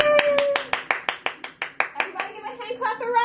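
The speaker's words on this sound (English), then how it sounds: "Everybody give a hand clap for Raya." Rhythmic hand clapping for a child finishing homework at home, about a dozen sharp, evenly spaced claps close by, slowing toward the end, with a voice cheering alongside.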